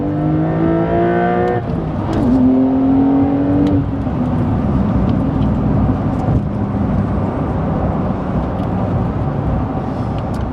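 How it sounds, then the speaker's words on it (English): Porsche 911 GTS turbo engine accelerating in second gear, engine tone climbing with a brief dip near a shift, then a loud steady roar with wind and road noise heard from inside. "I'm gonna get into second gear and it'll take me a while to really get into the power band."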